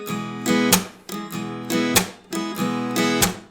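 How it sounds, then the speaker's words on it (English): An acoustic guitar is played with a percussive slap strum, the arm hitting the strings in a steady repeating pattern of sharp slaps followed by ringing chords, close and clear with no talk. "a lot of that sound is coming from my arm coming into the strings"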